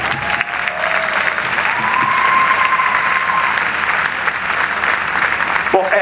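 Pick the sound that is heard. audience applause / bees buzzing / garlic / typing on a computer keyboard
audience applause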